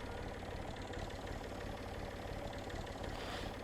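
A tractor engine idles in Farming Simulator 19, a steady low mechanical rumble with faint knocking that runs unbroken and fairly quiet, with no voices.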